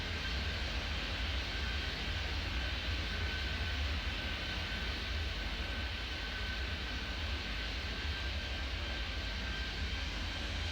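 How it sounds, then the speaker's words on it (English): An airplane takes off in the airport simulation game Airport Madness 3D: a steady, loud broadband engine roar with a thin constant whine, unbroken from start to finish and with no one speaking over it. "Steel Flight 205, cleared immediate takeoff."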